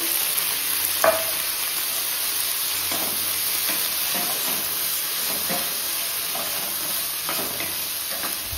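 Carrot, beans and cauliflower fry in a pan of cooked masala, with a steady sizzling hiss broken by repeated scraping stirs from a utensil, including one sharper clink.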